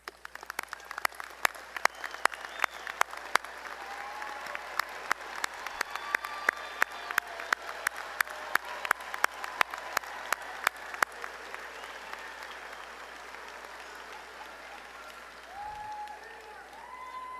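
Commencement audience at a college of arts and sciences graduation applauding the candidates' parents: dense sustained clapping from a large hall crowd with sharp individual claps standing out, gradually thinning and fading toward the end.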